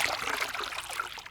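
Water pouring, a steady close trickling splash that runs on its own for a moment without a break.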